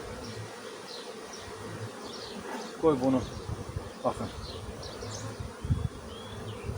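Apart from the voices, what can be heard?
honeybees buzzing at an opened hive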